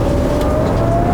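A supercharged Nissan Patrol Y62 V8 on the move gives a thin rising supercharger whine over a deep engine rumble, brief and close inside the cabin.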